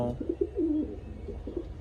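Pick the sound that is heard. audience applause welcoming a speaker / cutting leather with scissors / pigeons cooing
pigeons cooing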